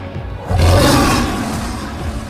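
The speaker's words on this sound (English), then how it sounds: "Number 5. Lion." A lion lets out a single loud, close roar that swells quickly and holds as a rough, powerful bellow before tapering off.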